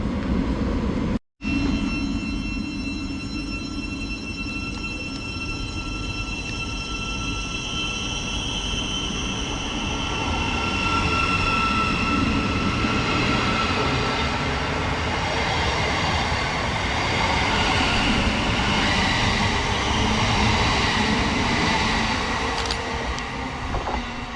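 A Class 700 Thameslink electric train pulls out of Welwyn North station, a loud, steady rumble and whine with rail clatter swelling close by and holding for the whole stretch, with no voices.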